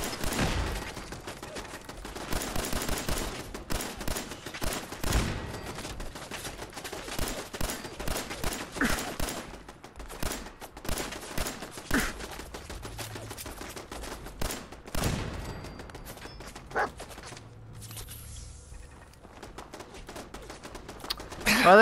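Turrets in the video game Fallout 4 firing rapid automatic bursts of gunfire, dense and loud for most of the stretch before thinning out toward the end.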